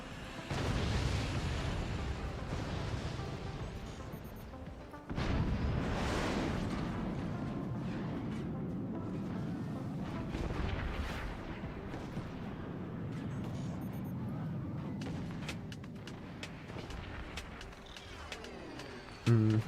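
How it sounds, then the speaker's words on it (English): Dense, continuous barrage of flak fire in the strategy game Forts, booming bursts and rumbling blasts layered without pause for the full stretch, loud and close, with a heavy hit near the start and end. "That is a lot of flak."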